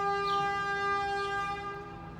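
A train passes near a house, its horn holding a steady sustained tone that stays loud for a couple of seconds before easing slightly.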